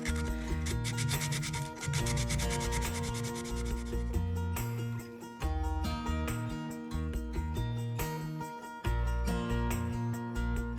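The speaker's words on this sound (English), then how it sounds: "Now I'm just going to sand this as much as I can by hand." A small wooden box is sanded by hand with sandpaper, giving loud, close rubbing strokes in uneven bursts with brief pauses between passes.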